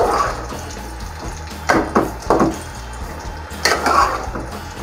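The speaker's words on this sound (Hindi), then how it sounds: "और साथ ही ये मटर और टमाटर डाल देने हैं। इनको बस आपने हल्का सा फ्राई करना है" Peas and tomatoes fry lightly in a pan with a soft continuous sizzle, broken by a few louder stirring scrapes and clatters against the pan; no one speaks.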